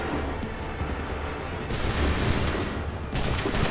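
Musket volley gunfire in the Assassin's Creed III video game, a dense, sustained crackle of many shots with heavy booming low end, swelling louder in two bursts without any talk.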